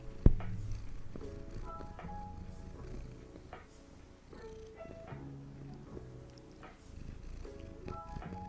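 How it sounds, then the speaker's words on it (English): A pet cat purrs close by as a low, continuous rumble through the whole stretch, with soft background music and a faint voice mixed in. "Can you hear her purr?"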